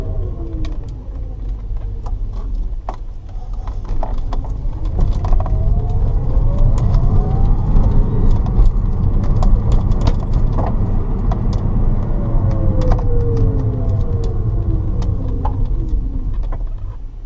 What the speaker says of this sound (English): I'm in first gear right now. Don't normally use first gear.